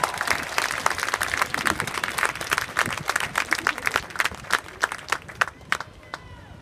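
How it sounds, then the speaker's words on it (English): A crowd at a public event with the U.S. Surgeon General applauds; dense clapping tapers into a few scattered, louder individual claps near the end. "deserves a round of applause."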